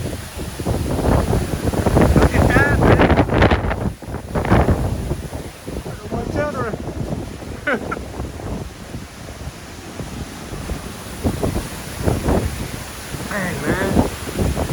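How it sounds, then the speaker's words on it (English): Strong wind gusts buffet the microphone outdoors, roaring in uneven surges that rise and fall, while someone talks excitedly over the blustery noise. "I came out here and it got really super windy."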